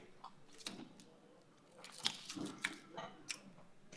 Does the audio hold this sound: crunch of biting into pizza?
yes